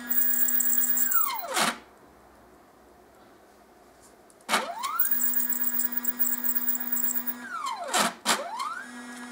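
Laser engraver axis driven by a stepper motor, whining as it moves in three passes, each ending in a sharp falling squeal. A steady tone runs between them and there is a quiet pause in the middle.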